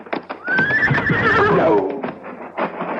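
A horse whinnies loudly and close, a long drawn-out neigh rising and falling, with a few hoof clops and stamps before and after it, with no talk over it.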